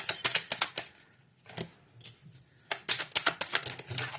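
Tarot cards shuffled and dealt during a money and finance reading: a run of crisp papery riffles and taps, then a quieter pause with a few soft flicks before another burst of close card handling, with no talk.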